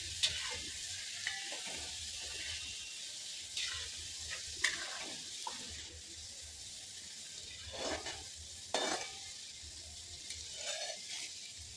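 Garlic paste fries in a pan while chiwda is being made, giving a soft, steady sizzle with occasional scraping stirs and light clinks, heard alone and fairly quiet.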